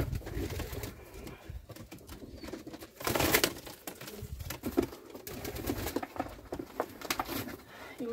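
Yellow Czech show pigeons settle into a new loft, with soft cooing, rustling and occasional wing flaps at close range and a few bumps throughout.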